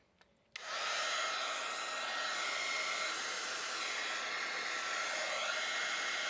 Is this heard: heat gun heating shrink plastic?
yes